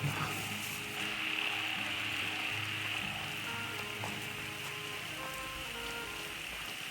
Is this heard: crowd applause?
no